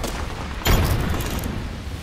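A single grenade explosion in the video game Apex Legends: a sudden loud boom that rumbles on and slowly fades over the following second.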